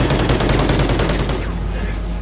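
Sustained, loud automatic rifle fire in Call of Duty Ghosts, rapid repeated shots for about a second and a half before tapering into rumble, with no talking.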